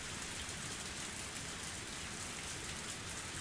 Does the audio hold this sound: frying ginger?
no